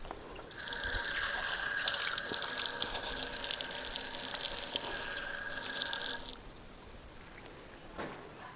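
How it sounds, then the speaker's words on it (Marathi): Water runs steadily from a tap or pipe in a Konkan village, a continuous near splashing stream for about six seconds that then stops abruptly, leaving quiet. "हे पाणी आहे"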